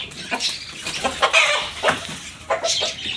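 A rooster on a pigeon farm clucks in short, uneven bursts, several sharp calls close by with brief pauses between them.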